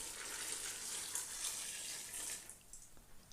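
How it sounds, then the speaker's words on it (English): Boiling water pours from a jug onto frozen blackcurrants, a steady loud hissing splash that runs for a couple of seconds before cutting off into quieter drips. "what you're going to add now is 8 pints of boiling water"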